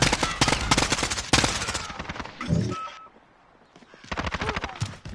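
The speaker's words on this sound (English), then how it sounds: "somebody shot me with like a submachine gun" Submachine gun fire in a shooter game, rapid loud bursts interrupted by a brief pause and a quieter stretch, then another fast burst near the end.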